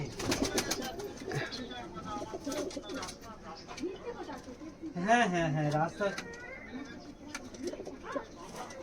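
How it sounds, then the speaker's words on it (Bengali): Pigeons in a loft collection coo repeatedly, with a louder, nearer burst of cooing midway, while people talk throughout. "অবশ্যই ডাকবে সেই কবুতরগুলো"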